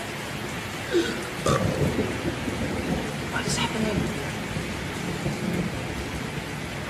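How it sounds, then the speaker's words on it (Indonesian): Steady rain hisses in the background while several low rumbles of thunder roll through, with a few people speaking briefly over the storm. "Gimik apa lagi tiba-tiba ada hujan, ada gerimis"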